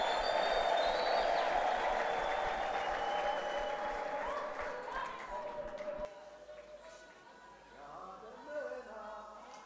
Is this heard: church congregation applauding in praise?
yes